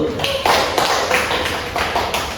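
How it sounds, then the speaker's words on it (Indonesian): Small group of students clapping after a group presentation in a university biology microteaching class, a few separate hand claps and taps at irregular intervals, close and moderately loud over room noise. "Kita beri tepuk tangan terlebih dahulu"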